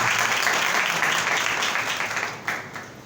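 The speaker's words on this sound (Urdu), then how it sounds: "زوردار تالیاں خدا کے لیے بجائیں, زوردار تالیاں" Church congregation applauding during a sermon, a dense, steady roar of clapping heard alone and fairly close, tapering slightly toward the end.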